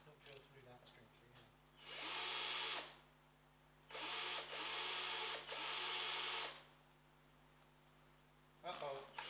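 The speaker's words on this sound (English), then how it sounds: "Let's not drill through that string tree." A power drill whines in three sustained bursts through the wood of a cigar box guitar, one then two more close together, loud and near, with a short pause between runs.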